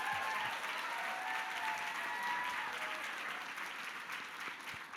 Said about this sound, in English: A big round of applause for these women.